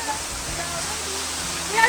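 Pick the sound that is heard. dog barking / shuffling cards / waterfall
waterfall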